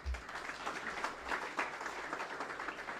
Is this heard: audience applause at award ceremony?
yes